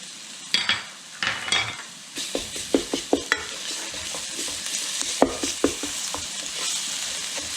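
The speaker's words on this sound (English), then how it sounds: "And saute this for about 30 seconds. Just want to get the garlic going." Garlic and red pepper flakes sauté in a hot pan, a steady sizzle under repeated sharp scrapes and taps as a spoon stirs, with no talking.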